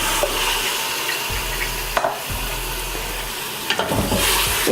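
Mutton pieces sizzle and fry with ginger garlic paste and salt in a pan for tindey gosht, a steady broadband hiss with a few sharp stirring clatters around the middle and end, close and fairly loud with no talking.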